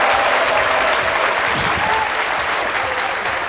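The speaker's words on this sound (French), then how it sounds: "Méliane Cuny et Alissar Zena, que je vous demande d'applaudir" A television studio audience applauds two guests on a midday talk show, with loud, dense, continuous clapping filling the whole stretch.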